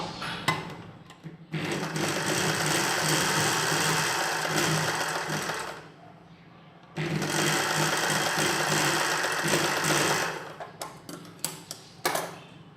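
Sewing machine stitching cloth crosswise on a nighty, in two long bursts of rapid, even mechanical whirring with a pause between them, then a few short stitch runs, close and clear with no talk.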